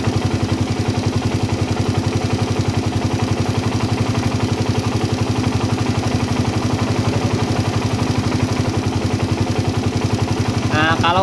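A motorcycle engine idles with a steady, loud, rhythmic low thrum while its carburetor is adjusted for a stable idle, holding an even pace throughout.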